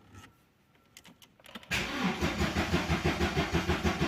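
An Opel Vectra B with a faulty fuel pump in the tank: after a few faint clicks, the starter cranks the engine in a loud, steady rhythmic churn that never catches.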